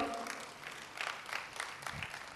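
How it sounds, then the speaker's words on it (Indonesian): Women in a church-style audience clap briefly, a soft scattered patter of applause with a few louder bursts, fairly distant and faint. "Para wanita tepuk tangan dulu dong."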